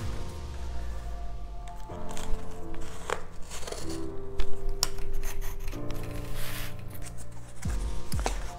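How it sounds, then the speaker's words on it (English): A blade saws and cuts into a book's cardboard cover while hollowing it into a book safe, producing close, steady scraping and crunching strokes with brief pauses, no talking. "I've started to cut into the cardboard here,"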